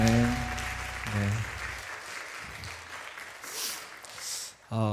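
An audience at a church praise concert applauds in a steady, moderately loud wash of clapping, following a brief sung or hummed tone at the start.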